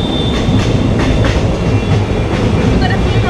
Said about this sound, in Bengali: ট্রেন কিন্তু থামলো না, বেরিয়ে গেল।